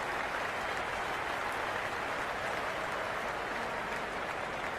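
A cricket stadium crowd at an India versus South Africa one-day international applauds and cheers, a dense, steady roar of clapping and voices that holds loud and unbroken throughout.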